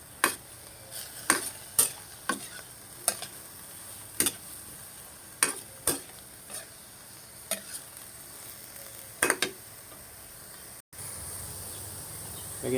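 Ginataang patola with gizzard being stirred in a pan, a series of sharp scraping and clinking strokes at irregular intervals over a soft, steady sizzle, close and fairly quiet.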